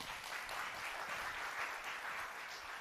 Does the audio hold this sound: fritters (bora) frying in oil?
no